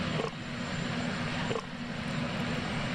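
A Sikorsky VH-3D Sea King helicopter serving as Marine One lands on the White House South Lawn, its engine and rotors a fairly faint, steady distant drone.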